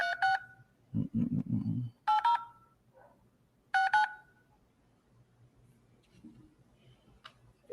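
Three short bursts of telephone keypad tones at a steady pace as buttons are pressed to dial out, with a brief hum from a voice between them and quiet room noise afterward.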